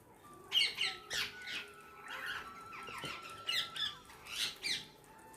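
Birds squawk in harsh, repeated bursts while eating rice poured along the top of a wall at a home, with several calls overlapping at close range and no talking.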